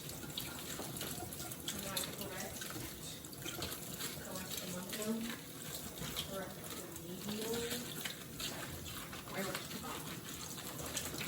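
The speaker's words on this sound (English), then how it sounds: "I'm just taking some hot water and running it over my broth" Hot tap water runs steadily over plastic bags of frozen broth in a kitchen sink, a continuous close splashing stream with faint bird calls in the background.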